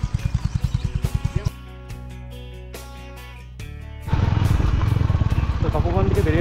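A motorcycle engine on a bike tour, first a close, rhythmic idling thump, then a steadier hum and finally a louder revving drone, with people talking over it.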